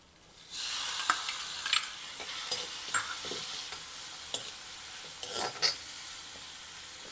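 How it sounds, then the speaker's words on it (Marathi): Grated ginger and tomato sauté in a pan for upma, a sudden loud sizzle as they go in, followed by repeated scraping strokes of a spatula stirring through the hissing mixture, close and without talk. "या स्टेजमध्ये आता मी टाकते किसलेलं आलं आणि आता मी हे छान परतून घेते."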